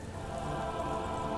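Steady rain pattering onto open water in the game Disco Elysium, a dense, even hiss of countless drops with no voices, holding at a constant soft level throughout.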